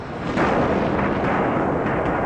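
A deep, sustained rumbling boom rolls on for a couple of seconds, broad and heavy like a far-off explosion.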